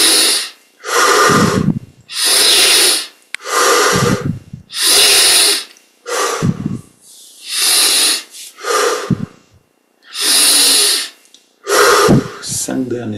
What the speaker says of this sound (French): augmente l'amplitude des respirations.